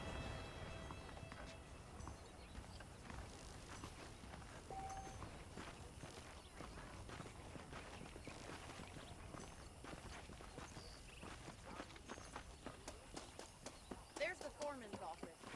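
Horse hooves in Red Dead Redemption, a rapid, steady clip-clop of a ridden horse running, fairly faint and continuous under a dense game soundscape, with voices talking over it.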